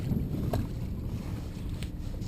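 A MinnKota trolling motor runs on a boat out on the water, a steady low rumble mixed with wind buffeting and a faint high whine, with no talk.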